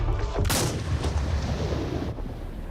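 Rifle shot at a large animal in a hunting video game, one sharp loud blast followed by a long rumbling decay.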